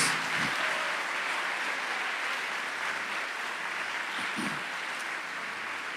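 Distant church congregation applause, a dense steady wash of clapping that fills the whole stretch at an even level, with a couple of faint thumps.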